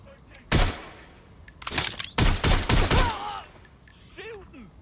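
Gunfire in the video game Watch Dogs Legion, with several loud sharp bursts and volleys of shots separated by short pauses, with game voices and effects between them.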